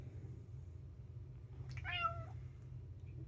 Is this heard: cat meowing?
yes